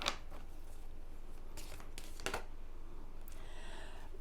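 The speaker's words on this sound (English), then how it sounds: "And we will just shuffle the deck to get your energy in." Tarot cards riffle and slap in a few quick bursts, with soft papery shuffling and handling sounds between them.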